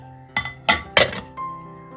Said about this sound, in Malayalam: ഇനി ഇത് മൂടി വയ്ക്കാം